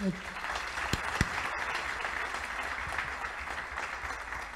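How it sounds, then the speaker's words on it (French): Moderate applause at an international business meeting in Morocco, a steady wash of clapping from a seated audience with a few sharper claps standing out early, somewhat subdued in level. "je voudrais qu'on l'applaudisse"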